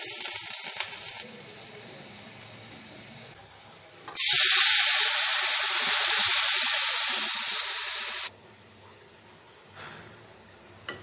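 Crushed garlic hits hot oil in a wok (kerahi), bursting into a loud, hissing sizzle that holds for about four seconds and then cuts off abruptly, with quieter kitchen sounds before and after.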